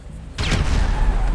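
Explosions in GTA 5 on a FiveM roleplay server, a sudden loud blast bursting in after a quiet moment and rumbling on with heavy low booms and crackling debris.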